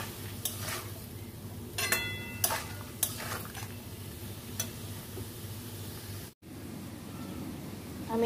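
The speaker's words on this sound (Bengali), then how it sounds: "মশলা দিয়ে আমি কষাবো এটাকে।" Taro sautéing with spices in a pan, a soft steady sizzle close by with a handful of sharp spatula scrapes and clinks against the metal, no voices.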